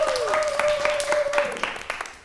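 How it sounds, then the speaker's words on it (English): A small class claps for a guest during a live one-room schoolhouse music lesson, a few scattered, distinct claps rising over a faint background and thinning out toward the end. "clap for Mr. Joshua."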